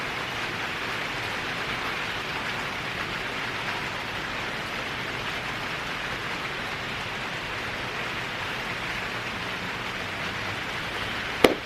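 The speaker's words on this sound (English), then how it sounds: "sound of the rain is so peaceful and sweet" Steady rain falls outdoors in a constant, even hiss of drops that runs unbroken throughout, with a single sharp tap near the end.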